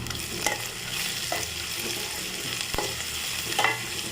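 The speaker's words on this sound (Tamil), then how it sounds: "வெங்காயம் வதங்கிறதுக்கு நம்ம கொஞ்சமாக உப்பு போட்டு நல்லா வதக்கிக்கலாம்" Onions sizzle and fry steadily in a pan with a little salt, with occasional sharp scrapes of a spatula stirring them.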